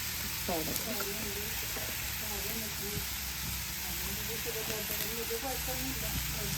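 Onions frying in a pan, giving a steady, even sizzling hiss throughout, with a voice talking over it.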